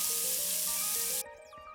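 Onion hits hot olive oil in a cooking pot, giving a bright, steady sizzle close up that abruptly drops to a softer frying hiss partway through the short clip.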